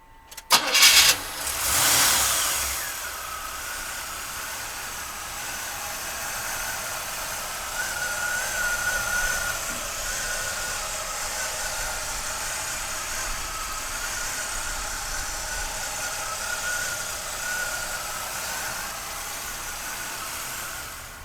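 A 1979 Cadillac DeVille engine cranks and fires in a short loud burst, then settles into a steady, low, even idle that continues evenly for the rest of the clip.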